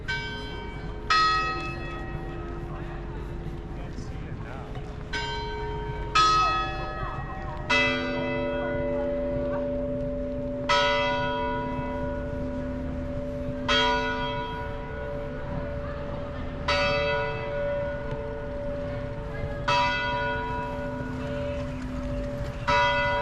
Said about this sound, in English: it's 9 o'clock on the dot, and the church bells are ringing